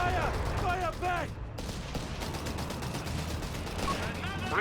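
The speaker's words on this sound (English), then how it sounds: "They've opened fire! Fire back!" Gunfire from the World War II strategy game Company of Heroes 3 crackles as a dense, steady wash of distant shots and bursts throughout, with a voice calling out over the opening moments and again near the end.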